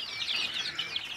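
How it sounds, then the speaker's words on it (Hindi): Guinea fowl chicks peep in a continuous high, chirping chorus, several birds calling over one another at close range with no pauses. "देखो चाइना मुर्गी बा गिनीफल बच्चा"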